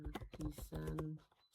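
Short burst of typing on a computer keyboard, a quick series of close key clicks under someone speaking.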